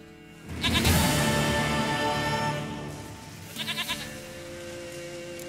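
In The Witcher 3, a goat lets out a long, loud, wavering bleat close by, then a softer stuttering bleat after a pause, with no one talking.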